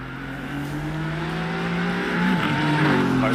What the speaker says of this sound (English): Car is coming.